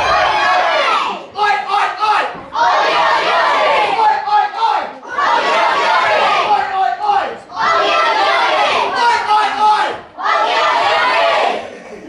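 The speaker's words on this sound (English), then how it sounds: "the crowd absolutely loving the Oggy Oggy Oggies and the Oi Oi Ois" Wrestling crowd loudly chanting "Oggy Oggy Oggy, Oi Oi Oi" in rhythmic bursts. Several full-throated rounds fill the arena, separated by short dips.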